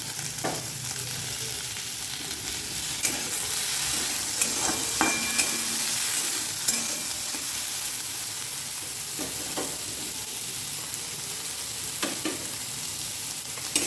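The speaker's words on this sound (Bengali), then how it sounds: "তো আমি এগুলো ফ্রাই করে নিই" Vegetables fry in a pan during home cooking, a steady broadband sizzle running throughout with intermittent scraping stirs from a spatula, no voices.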